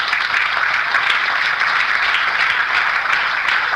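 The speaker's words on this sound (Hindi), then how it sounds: "और तालियां इसलिए बजाएं" Seminar audience bursts into continuous applause, a steady, even roar of many hands clapping with no pause for the whole stretch.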